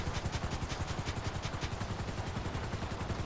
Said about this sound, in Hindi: हेलीकॉप्टर आराम से ही मोड़ेंगे गाइस